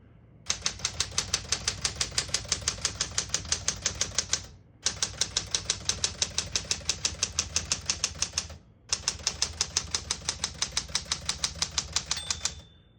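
A 1970 Smith-Corona Super Sterling portable typewriter types in three long bursts of rapid, even keystrikes, each run separated by a brief pause, with a faint margin bell ringing near the end.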